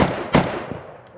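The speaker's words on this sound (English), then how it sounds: "I would end the shooting day with one more mag through the Mini Beryl" A Polish FB Radom Mini Beryl pistol fires a single loud, sharp shot at an outdoor range, with a heavy muzzle blast that decays over a second, followed by a faint second crack.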